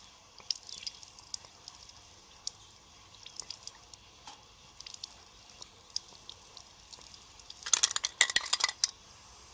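Mixed water drips and trickles into an empty spray paint can, with light metallic clinks, then a louder splashing pour in the last couple of seconds, close up and without talk.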